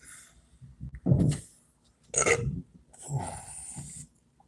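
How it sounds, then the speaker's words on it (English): A long, deep, growling burp from a man, loud and close, broken into a few guttural bursts with short pauses between them, with no talking over it. "Sometimes when I burp, it sounds like Satan."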